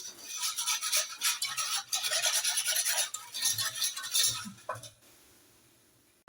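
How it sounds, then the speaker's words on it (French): A spoon scrapes and swirls in rapid strokes as semolina is stirred into near-boiling milk in a pan for a semolina tart. The stirring is close and steady, then stops near the end. "On va venir rajouter notre semoule en remuant."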